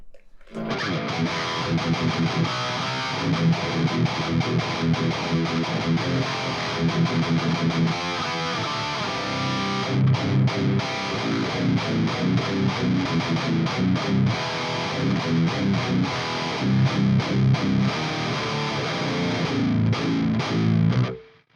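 Heavily distorted electric guitar through the STL Tonality Josh Middleton amp plugin, playing tight, rhythmic palm-muted chugs with chordal stabs, loud and continuous from start to finish with no voices.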